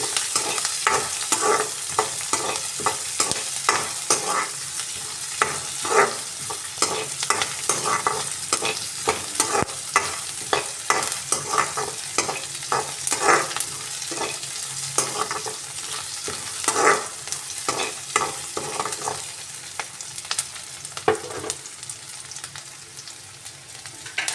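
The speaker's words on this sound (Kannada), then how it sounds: "ಇದು ಸ್ವಲ್ಪ ಬ್ರೌನ್ ತಿರುಗಬೇಕು ಈರುಳ್ಳಿ." Onions fry in hot oil while a spoon stirs them steadily for village-style tomato gojju, giving a constant sizzle with repeated scraping strokes throughout, close up and with no talking.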